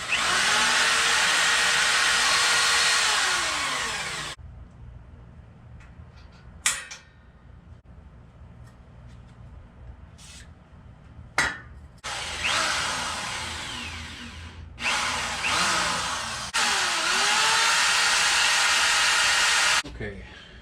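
A power drill bores holes in a go-kart part with a 1/4 inch bit, a loud sustained whine in three long bursts, separated by a quieter stretch of clicks and handling noise.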